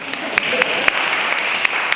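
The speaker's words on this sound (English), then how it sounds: "Okay, I can get the claps for that." An audience at a food sustainability symposium breaks into steady applause, a dense wash of clapping from a room full of people with a few sharper claps rising above it, and a voice faintly under the clapping.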